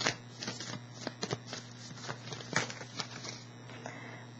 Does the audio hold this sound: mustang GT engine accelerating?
no